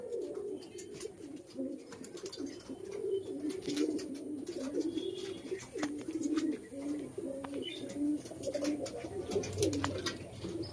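A large flock of pigeons, around three hundred birds in a village loft at Nadia, coos in a dense continuous throbbing chorus, close and steady throughout, with light rustling and chirps mixed in.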